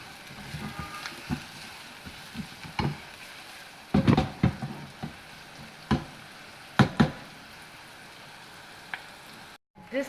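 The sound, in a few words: chopped garlic cloves frying in pan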